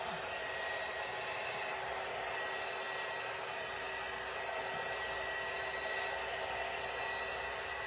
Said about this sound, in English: Let me just hit this with the heat tool.